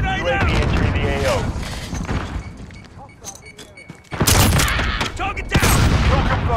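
Grenade blasts and gunfire in a Modern Warfare match: heavy booming thuds and rattling shots, with loud bursts returning after a brief lull, under spoken radio-style callouts.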